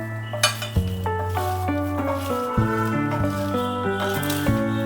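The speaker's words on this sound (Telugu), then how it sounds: "సో ఒక సలాడ్ లాగా దీన్ని 2 గరిటెలు యూజ్ చేసి మిక్స్ చేస్తే కొంచెం బాగా కోట్ అవుతాయండి." Two ladles toss and mix grilled potato fingers in a metal vessel, making loud, continuous scraping and clinking close by, with a ringing metallic tone and regular knocks.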